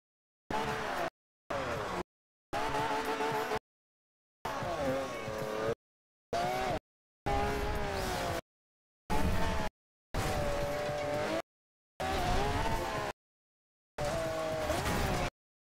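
A car drifting in the rain in the Forza Horizon 2 racing game, tires squealing and engine wailing in about ten separate short bursts of varied length, each broken by silence.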